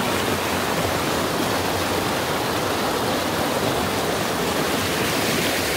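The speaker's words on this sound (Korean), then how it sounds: "계곡물이 흘러내립니다." Mountain valley stream water at Yongchu Valley in Gapyeong pours down like a small waterfall, a loud, constant, close rushing roar with no voices.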